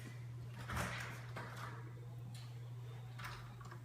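A house door swings open onto a carport with a few soft knocks and a sliding rub, faint against a steady low electrical hum, and no one speaking.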